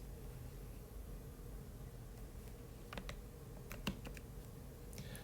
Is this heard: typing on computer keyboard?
yes